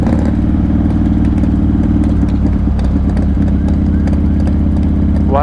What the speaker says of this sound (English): There's a lot of fucking bikes here.